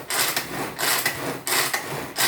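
Food processor mixing soft butter for a crumble, a coarse grinding whir that surges and dips in roughly rhythmic pulses, steady and close with no talking.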